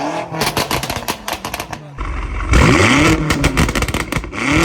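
A Stage 2 tuned BMW M5 Competition revs hard, its exhaust firing rapid crackles and pops between loud engine sweeps, with up-and-down revving bursts close to the microphone.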